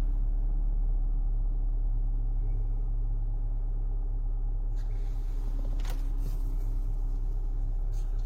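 A Honda Amaze car engine idling smoothly, a steady low hum and rumble held evenly throughout, with a brief faint click or tap partway through.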